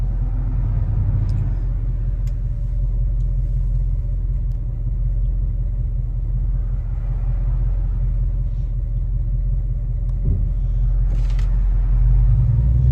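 A 1966 Chevrolet Chevelle SS 396 on a test drive in light traffic, a continuous deep engine rumble from inside the car, loud and steady with small shifts in load.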